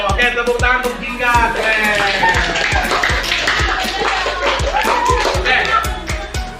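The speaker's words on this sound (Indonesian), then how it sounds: "tepuk tangan untuk Jingga" A classroom of schoolchildren claps for a classmate in a loose burst of many overlapping hand claps, close and fairly loud, with voices chattering underneath.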